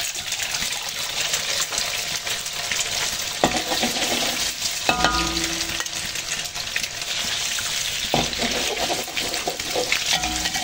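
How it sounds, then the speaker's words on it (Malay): Steady sizzling of eggs frying in a pan, with a few scraping and clattering utensil sounds cutting in now and then. "Telur pun mak goreng juga."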